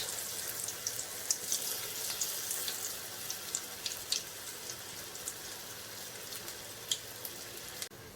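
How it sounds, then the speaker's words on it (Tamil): Banana paneer cutlets frying over low, medium heat in groundnut oil, a faint, steady sizzle with soft bubbling crackles and occasional pops, no voices. "நல்லா சிம்மில் வச்சு ஃப்ரை பண்ணி எடுத்துக்கலாம்."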